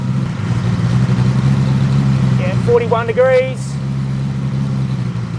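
Ferrari-engined Alfa Romeo 105 idling with its exhaust valves open, a steady low engine rumble that continues through the clip while someone speaks briefly over it.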